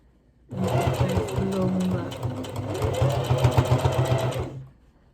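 A sewing machine stitches bias binding onto a doll dress collar along a basting line with a small stitch, starting abruptly and running at a fast, rhythmic whirring pace for about four seconds before stopping.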